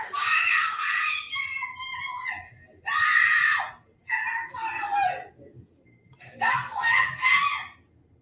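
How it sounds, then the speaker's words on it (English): A woman screams in loud, harmonic bursts during a heated confrontation, with three long shrieking outbursts separated by short pauses over low background noise. "I think one of the screams is coming."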